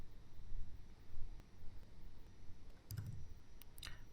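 Mouse clicks sound on a computer while an order is converted into an invoice in accounting software. A few sharp clicks come near the end over faint room noise.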